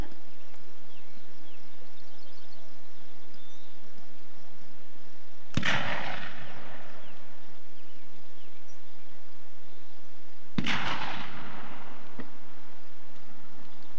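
Two black powder rifles fire at a Santa Fe Trail rendezvous, each a single loud sharp crack with a rolling outdoor echo, several seconds apart against quiet background hiss.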